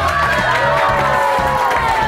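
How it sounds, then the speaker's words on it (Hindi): Students at a school assembly cheer and shout for the winning class, a dense, lively crowd roar that stays loud and continuous throughout, with overlapping young voices. "फिर तालियां बजाइए"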